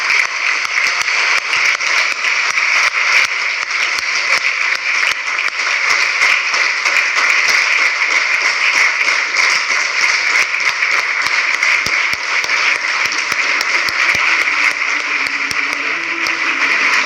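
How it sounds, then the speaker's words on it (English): A large audience gives a big, sustained round of applause welcoming Dato Dr. Lim Seo Jin to the stage at a company event in Dubai, a dense, steady clapping that fills the whole stretch without a break. "please welcome Dato Dr. Lim Seo Jin to the stage with a big round of applause"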